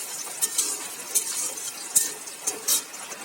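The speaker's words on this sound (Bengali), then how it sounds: "এটাকে একটু লাল করে ভেজে নেব।" Peanuts, cashews and raisins fry in a pan with a soft sizzle while a spatula stirs them, giving scattered light clinks and scrapes close by.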